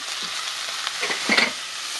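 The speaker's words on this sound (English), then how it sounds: "I'm going to add about that much butter to the pan. Get that going." Butter sizzling in a hot pan as filet mignon is cooked, a dense steady hiss up close with a few faint stirring scrapes and no voices.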